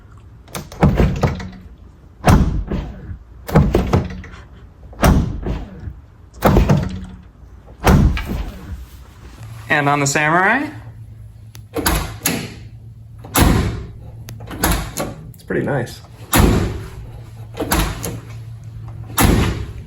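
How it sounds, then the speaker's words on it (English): The doors of a Ford Bronco Heritage Edition SUV are opened and shut repeatedly, a sequence of solid thunks and latch clicks at a steady pace, with brief speech mid-way. "Bronco door ASMR."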